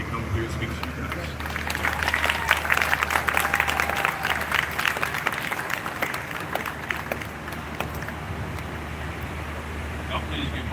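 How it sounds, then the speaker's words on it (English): Crowd applause at a police brutality protest in Belton: a swell of clapping and cheering from an outdoor gathering that builds and then thins, mixed with voices talking. "Y'all please give my brother another round of applause"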